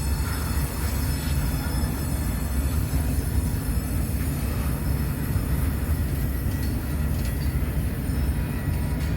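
A freight train rolls past a rail yard on the east side of Fremont, a loud, steady rumble of wheels and cars with faint metallic squeals riding on top, continuous and close, with no voices.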